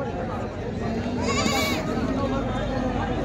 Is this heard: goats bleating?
yes